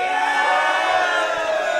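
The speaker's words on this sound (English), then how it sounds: "If you guys are cheering for Sean Strickland, let's hear you make some noise right now." A packed arena crowd at Scotiabank Arena cheers and roars for UFC fighter Sean Strickland, a sustained loud wall of shouting and whooping voices.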